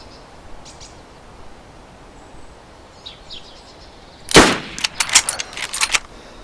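Gunfire in the DayZ video game: one loud, close shot bursts out, followed by a quick run of sharper shots and clatter over a quiet outdoor ambience.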